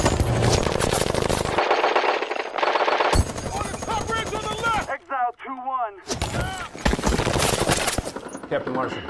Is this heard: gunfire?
yes